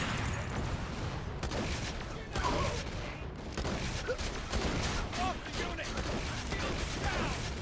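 A Torgue shotgun fires in Borderlands The Pre-Sequel with rapid, repeated blasts and mechanical clatter over several seconds, fairly quiet in the mix.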